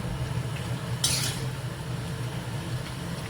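A spoon stirs a sago papad mixture with cheese in a pot, giving a short scraping clink near the start, then a low steady hum with faint kitchen sounds.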